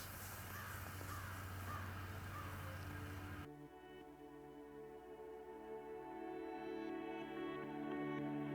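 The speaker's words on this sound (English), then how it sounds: "So far, there's just been the one crow I've been filming" A single crow caws outdoors in a backyard, its calls repeating in the first few seconds over steady background hum before the scene shifts to quieter ambient tones.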